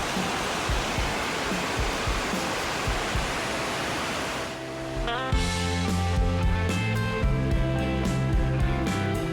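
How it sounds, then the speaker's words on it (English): Sweet Creek Falls, a forest waterfall, pours as a dense, steady roar for about four seconds before being abruptly replaced by music. "The waterfall is spectacular."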